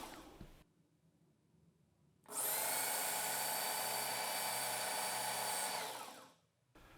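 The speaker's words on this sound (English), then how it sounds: "place the knife in the guide with the heel in contact with the abrasive, power on, and float the knife through across the abrasive" Work Sharp Ken Onion Edition knife sharpener grinding a knife blade along its abrasive belt, a single high, whining buzz lasting about four seconds with some tonal variation, then stopping, close and loud, with no voices.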